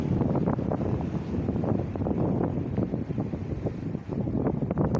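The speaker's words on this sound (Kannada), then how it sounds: "ಇನ್ನೂ ತುಂಬಿದೆ ನೀರು. ಸೊ ತುಂಬ ಹರಿತಾ ಇದೆ ಹೊಳಿ" A swollen river surges strongly beneath Lolasur bridge, a dense, continuous rushing roar of fast-moving floodwater, steady and loud with constant turbulence and wind buffeting the microphone.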